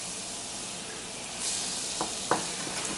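Butter goes into a pan of broccoli soup mixture and sizzles with a soft, steady hiss, broken near the end by a couple of sharp scraping clinks as the mixture is stirred.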